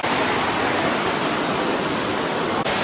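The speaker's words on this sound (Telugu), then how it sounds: "ఎంతో కష్టపడి వచ్చింది ఈ వాటర్ ఫాల్ చూడడానికి" Dumpavalasa waterfall in Maredumilli roars as a loud, continuous broadband rush of falling water close by, steady and unbroken.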